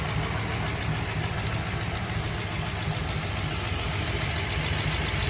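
A 1960 Plymouth Fury's 318 poly V8 idling, a steady dense rumble with an even mechanical pulse and some knocking texture, close and constant, no voices.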